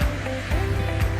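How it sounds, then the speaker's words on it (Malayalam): Clean stream water flowing in the hills of Vagamon, a close, steady rushing wash with no voices over it. "ശുദ്ധമായ വെള്ളം, ഒഴുകി വരുന്ന വെള്ളം"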